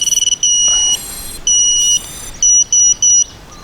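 A series of high electronic beeps and tones, some long and some short in a quick rhythmic pattern, as a Walkera Rodeo 110 drone binds to its controller, sounding close and loud with no talking.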